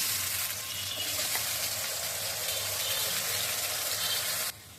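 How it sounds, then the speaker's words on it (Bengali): Potatoes coated in salt and turmeric sizzle in hot oil, a steady bright frying hiss that runs continuously at close range before cutting off near the end. "আলুগুলো ভাজা হয়ে গেছে"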